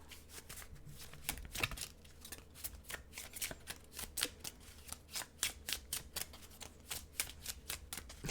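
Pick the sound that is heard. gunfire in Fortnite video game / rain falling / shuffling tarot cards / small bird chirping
shuffling tarot cards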